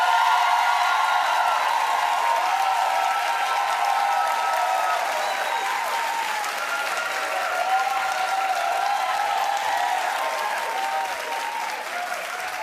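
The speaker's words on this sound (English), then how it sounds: "Clap if you're happy that Nicki Minaj might be going away." A television talk-show studio audience claps steadily for more than twelve seconds, a dense even wash of applause with no voices over it.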